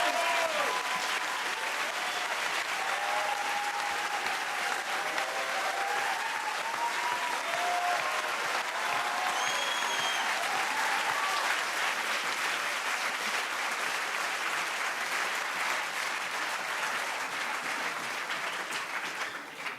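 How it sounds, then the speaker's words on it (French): An audience applauds at the final of the HEC Paris eloquence contest, loud sustained clapping from a large crowd with faint cheers and voices mixed in, fading only at the very end. "Vous êtes beaucoup trop gentil de m'applaudir, ça fait chaud au cœur."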